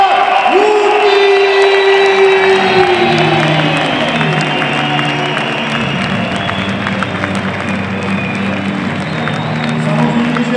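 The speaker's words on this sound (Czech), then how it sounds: "Samozřejmě, že potlesk patří pro poraženého soupeře Ondry Spejbla Hutíka, reprezentanta z Německa Martin Jan!" Arena crowd at a kickboxing fight night applauding and cheering after a first-round knockout, the dense roar steady and loud throughout, with a ring announcer's voice and a sliding tone early on.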